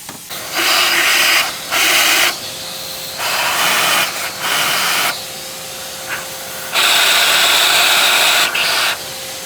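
Brake cleaner sprayed from an aerosol can onto engine parts and injector holes during water pump and oil cooler work on a 2016 Volkswagen Tiguan, heard as five or six loud, close hissing bursts of one to two seconds each, separated by short pauses.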